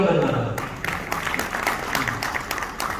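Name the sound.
audience applause at a poetry gathering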